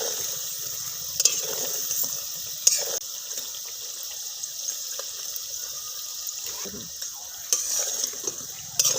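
Steady hissing sizzle of poppy seed and coriander leaf fritters frying in hot oil, with occasional clinks and stirring scrapes over it.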